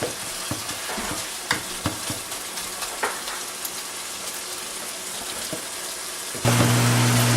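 Chicken for Korean lettuce wraps sizzles and fries in a pan with steady crackling and a few sharp stirring clicks, before a louder hum enters near the end.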